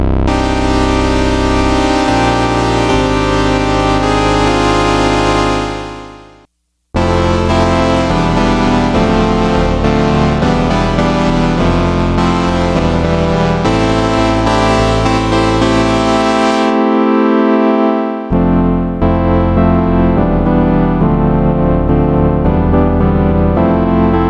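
Yamaha DX7 synthesizer playing an analog-style polypad patch with all operators on, sustained rich chords changing over about 24 seconds, loud and alone, with one brief gap partway through.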